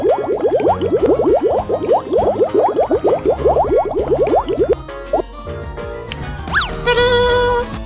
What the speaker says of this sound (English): We gotta wash it off with a facial wash.